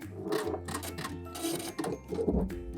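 A sewing machine back stitches and overlaps stitches on an elastic waistband of high-waisted panties, giving short bursts of rapid mechanical clatter with brief pauses between, close and alone.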